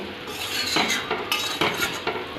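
A lid goes onto a pot of mutton cooking in yogurt and salt for Bengali mutton kosha, with several light metallic clinks over a steady background hiss.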